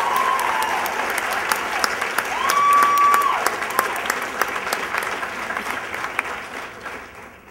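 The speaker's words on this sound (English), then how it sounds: "Let's hear it for Thomas DeSimone." Audience at a school awards ceremony applauding, a dense steady clapping from a crowd that slowly tapers, with a brief tone sounding over it.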